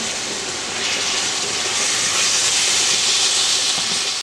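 Collard greens, four 12-ounce packs, frying in a pan with meat cooking alongside, give off a steady, dense sizzle and hiss that holds loud and even from start to finish.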